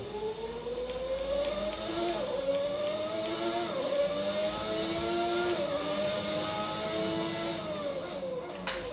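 A 1991 McLaren Formula One car of Ayrton Senna in a racing video game screams at high revs, its engine note steadily rising and dipping through gear changes as it laps, with no talk.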